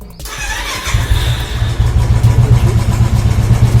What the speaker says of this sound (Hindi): अब मैं सेल्फ के बटन को 2 बार दबाता हूँ तो ये बाइक सेल्फ स्टार्ट हो जाएगी।